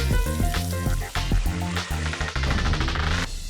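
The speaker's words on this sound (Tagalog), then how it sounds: "hulog po natin siya sa mantika na kumukulo" Ilocos empanada, folded and sealed, drops into boiling cooking oil and fries with a loud, continuous sizzle, accompanied by strong tonal sounds throughout and no talking.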